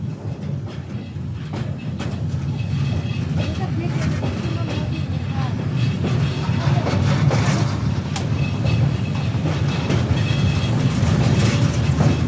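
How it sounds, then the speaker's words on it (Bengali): A train rolls across the Karnaphuli bridge, its steady low rumble and rhythmic wheel clatter slowly building as it gathers speed, heard from on board. "ট্রেনের গতি অবশ্য আস্তে আস্তে বাড়তেছে"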